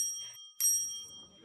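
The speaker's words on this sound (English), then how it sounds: "Stop ringing my bells." Bicycle bell rung inside the VRChat game, two quick bright metallic rings about half a second apart, the second louder, over a quiet background.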